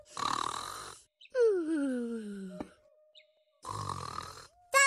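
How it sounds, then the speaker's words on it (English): A cartoon character gives exaggerated, loud snores, long rumbling breaths with a whistling, falling tone between them, repeated three times in a slow rhythm, close and with no talk over them. "That sounds like snoring."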